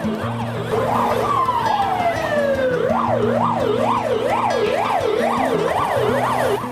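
An ambulance siren in a Bengali audio drama wails loudly and continuously, with a long descending sweep and then a rapid rising-and-falling yelp over a low engine hum, close and alone without speech.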